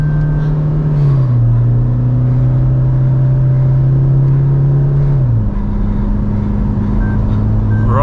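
A 2024 Toyota Fortuner's engine pulls hard under acceleration, its steady drone holding a high pitch before the automatic gearbox shifts with a clear drop in revs about five seconds in; loud, continuous and heard from inside the cabin.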